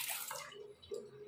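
Water runs down a freshly unclogged washbasin drain, a soft splashing flow that fades, then a brief gurgle, close by and fairly quiet.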